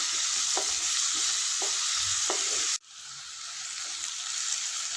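Vegetables for chicken fried rice stirred in a hot frying pan: a bright, constant sizzle with a few distinct scraping strokes, then the hiss drops abruptly and slowly builds back, close up with no talking.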